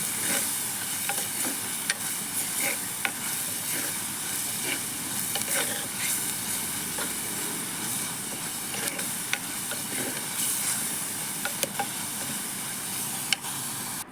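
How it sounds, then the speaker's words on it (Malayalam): Curry leaves sauté in a pan of hot oil for a fish curry, giving a steady, close sizzle and crackle with frequent sharp pops throughout, and no talking. "കുറച്ച് വേപ്പില ഇട്ട് കൊടുക്കാം കേട്ടോ. ഇനി ഇതൊന്ന് വഴന്ന് വരട്ടെ."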